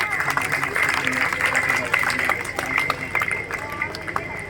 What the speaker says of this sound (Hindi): मलिक साहब के लिए तालियां।